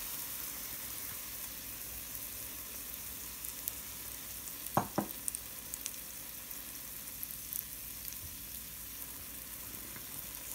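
Fried cornbread johnny cakes frying in a pan, a steady, quiet sizzle and bubble of oil that runs throughout, with a brief cluster of clatter near the middle as the cake is flipped.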